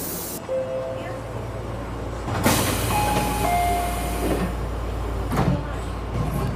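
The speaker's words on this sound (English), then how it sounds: "the train for the Tobu Daishi line is here" A one-man Tobu Daishi line train rumbles into a Tokyo station with a surge of noise about halfway through, as brief electronic tones sound over a steady mechanical hum.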